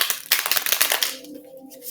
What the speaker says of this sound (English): Okay, one more shuffle, guys, and we're good to go.